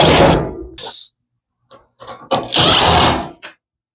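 Power driver unscrewing screws from beneath the lid lip of an LG dryer, a few short loud whirring bursts separated by silence and faint handling clicks.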